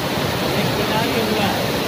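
The Kedar Ganga river rushes through the mountains with a loud, steady, broadband roar of fast water, continuous and close throughout with no break.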